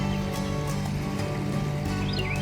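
Steady creek water runs continuously from Henry Hudson Springs toward the bay, a constant close wash of flow with no breaks.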